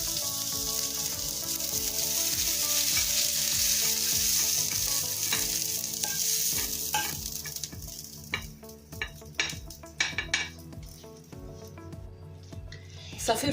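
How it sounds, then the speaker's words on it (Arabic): Chicken breast pieces frying over medium heat in a pan, a steady close sizzle that fades toward the end as utensils scrape and clink against the pan a few times. "غادي نديرهم فوق النار على نار مهيله حتى يطيبوا ويتحمروا"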